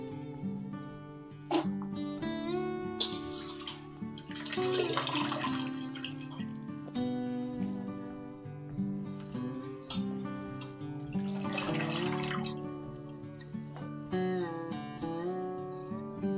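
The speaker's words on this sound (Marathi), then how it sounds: "तर मी हे भाजी आता धुवून घेते" Radish greens are washed under running water in a village kitchen, with two bursts of splashing flow about seven seconds apart over steady, tonal background music; nobody speaks.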